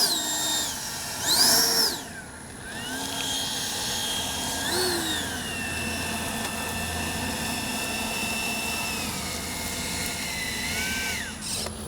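A Kavan Skyfox L-39 RC jet with an upgraded 80 mm electric ducted fan runs in a steady, sustained whine, rising briefly in a loud surge early on before holding an even, close drone throughout.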